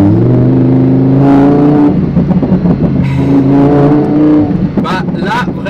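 A Lamborghini Huracan engine switched into sport mode rises in a loud, close rev with a shifting growl, while someone speaks over it.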